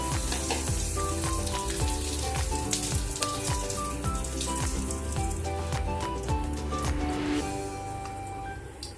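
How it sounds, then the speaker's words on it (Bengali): Whole garam masala and two bay leaves frying in oil, a dense, steady crackle of spattering and popping heard close up throughout, with no voices. "এই তেলের মধ্যে আমি গোটা গরম মশলা দিয়ে দিচ্ছি দুটো তেজপাতা দিয়ে দিলাম"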